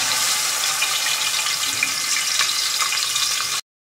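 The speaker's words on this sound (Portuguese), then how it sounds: "E agora eu vou colocar o frango" Chicken fries in a pan on a gas stove, making a dense, steady sizzle that stays loud and close for several seconds before cutting off abruptly.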